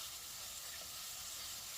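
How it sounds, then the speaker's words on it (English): A homemade beef patty pressed into a hot pan sizzles with a steady, even hiss, soft and continuous with no talking. "I'm just going to lay it down right into the pan and kind of give it a press"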